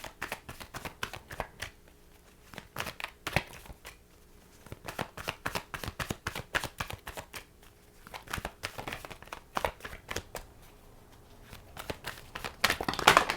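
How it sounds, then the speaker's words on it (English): Tarot cards shuffled by hand, close and continuous, in bursts of riffling and sliding slaps with short pauses between rounds, no one speaking. "So let's pull some more cards"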